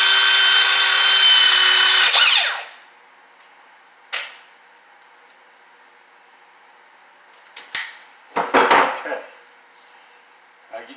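A Milwaukee power crimper clamping a PEX fitting: a loud steady motor whir for about two seconds that cuts off, followed by a few short clicks and clacks of handling the tool.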